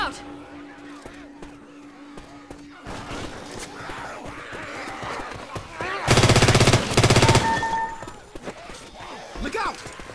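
Automatic gunfire rattles in the zombie shooter game Left 4 Dead 2, with scattered single shots and a loud sustained burst midway, while characters shout over the action.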